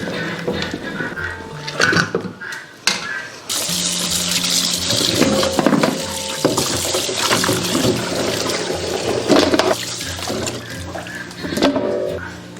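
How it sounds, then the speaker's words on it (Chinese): Water pours and splashes steadily over pieces of meat being rinsed in a pot before braising, a loud continuous gush with occasional clatter and no talking. "然后我们关火给它清洗一遍。"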